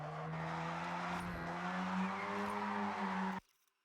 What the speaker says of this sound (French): You want to build up as much speed as you can and just throw it into a drift.